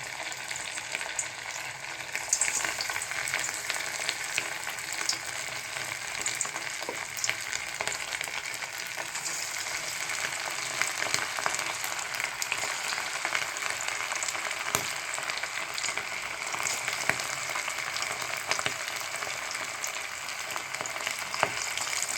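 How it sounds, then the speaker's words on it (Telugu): Chicken pakodi pieces fry in hot oil over a medium flame, giving a steady, dense sizzle that holds evenly throughout with no voices. "చికెన్ని ఒక్కొక్కటిగా పకోడీగా వేసుకుందాం. స్టవ్ని మీడియం ఫ్లేమ్లో పెట్టి"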